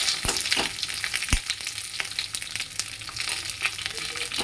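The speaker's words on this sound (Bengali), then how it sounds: "এবার একটু নাড়াচাড়া দেবো" Pabda fish curry with shola kochu, kalonji and green chilli being stirred in a frying pan, with a steady bright sizzle broken by several sharp scraping clacks of the utensil, close and with no voices.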